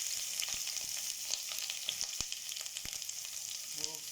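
Onions sauté in hot oil in a pan for sinigang, a steady bright sizzle with scattered pops and a few stirring clicks, close and alone.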